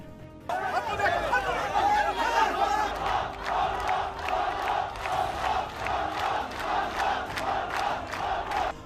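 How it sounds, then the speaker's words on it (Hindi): An angry Arab Druze crowd in Majdal Shams shouts at Netanyahu in loud, rhythmic chanting bursts, many voices yelling together close by, steady and unbroken throughout. "इस भीड़ में कई लोग नेतन्याहू को हत्यारा तक कह रहे थे और उनसे वहां से जाने की मांग करने लगे"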